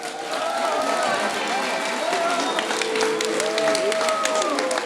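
Crowd applause for athletes at a closing cocktail reception for a raid event, steady dense clapping throughout with chatter and a tonal ringing layered over it.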